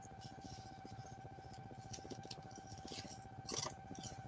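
Scissors snip out small details from a typewriter picture in a magazine, a dense run of quick, close, fairly quiet cuts and crinkling paper, with a brief louder rustle near the end.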